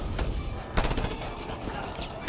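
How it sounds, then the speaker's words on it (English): Gunfire in the video game Just Cause 2: a dense rattle of rapid shots and impacts, loud and close, mixed with game noise. "Something's shooting at me, something big."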